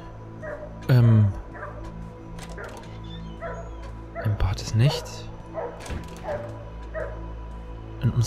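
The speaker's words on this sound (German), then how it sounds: "Da bellt er wieder." Steady, evenly spaced dog barking from the video game The Nightfall runs throughout, moderately loud, while someone speaks over it at intervals.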